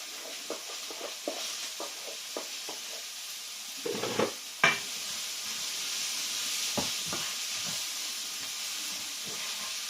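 Bean sprouts hit a hot pan of butter noodles with onions, giving a steady hissing sizzle with light tapping stirs, a louder burst of frying as they go in, then continued crackling.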